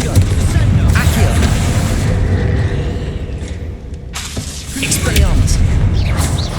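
Confringo fire-blast spell in Hogwarts Legacy, heavy booming bursts with a rumbling low end and crackling debris, loud and close amid other combat effects and a voice.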